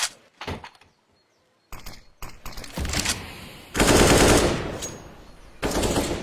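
Rapid automatic gunfire in the game CS:GO, bursts sprayed through a smoke grenade, loud crackling volleys with short gaps between them, close and continuous in the later stretches.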